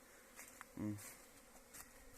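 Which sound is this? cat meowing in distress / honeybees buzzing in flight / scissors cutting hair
honeybees buzzing in flight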